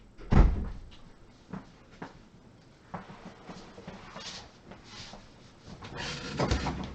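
A room door is opened to let a cat out, with a loud clunk from the latch and handle, then soft knocks, shuffling and thumps as it swings and settles, nearby and close to the microphone.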